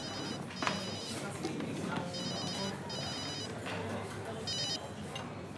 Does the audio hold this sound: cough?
no